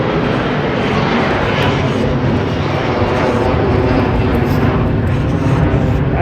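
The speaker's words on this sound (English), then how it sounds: "Gosh dang, that's the 3rd plane in like less than a minute." An airplane flies overhead near the Washington Monument, its loud, steady broadband engine roar filling the whole stretch without letting up, with no voices.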